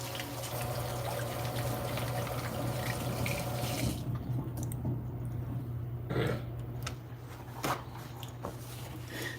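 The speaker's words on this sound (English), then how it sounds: "let me wash my hands" Running tap water splashes steadily into a sink as hands are washed, a continuous hiss with a low hum underneath that eases partway through, with small splashes and clatters.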